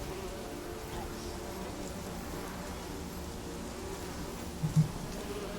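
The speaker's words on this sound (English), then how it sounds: "Burn the bees." Bees in The Witcher 3 video game, a steady low insect buzzing hum that continues throughout at moderate volume, with a couple of brief soft thumps near the end.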